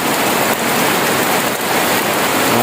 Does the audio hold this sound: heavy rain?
yes